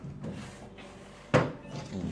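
An oak bedroom set's tall chest drawer is pulled open with a single sharp wooden knock amid soft handling noise.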